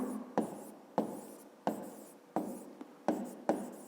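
Pen writing on paper during a fifth-grade maths lesson: a run of short, close scratchy strokes, each starting with a soft tap, repeating at a steady pace with no voice over them.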